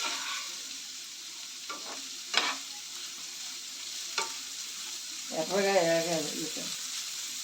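Onions fry with a steady close sizzle for a prawn curry while a spoon knocks and scrapes the pan a few times; near the end a voice briefly talks over it.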